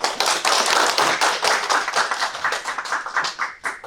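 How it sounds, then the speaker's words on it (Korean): Applause from an audience at a sustainable development seminar in Daejeon as a city environment official comes up to speak: dense, loud, continuous clapping that thins slightly toward the end, with no voices over it. "나오실 때 큰 박수 좀 부탁드리겠습니다."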